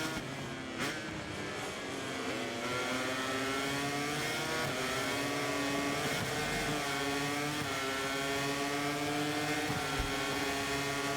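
Racing motorcycles scream through gear changes in MotoGP 24, a dense, steady engine whine climbing and shifting in pitch, loud and continuous, including an Aprilia bike.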